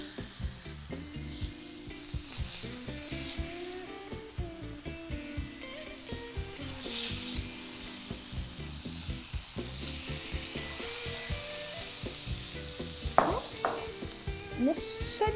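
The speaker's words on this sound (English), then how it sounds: "And we're gonna throw this in the grill." Watermelon slices seasoned with brown sugar, lime juice and blackening seasoning sizzle steadily on a medium-high grill, a continuous close frying hiss with a few clinks and scrapes of handling near the end.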